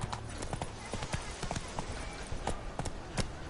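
Roach, a horse in The Witcher 3, gallops with close, steady hoofbeats in a rapid clip-clop rhythm that holds loud and continuous throughout.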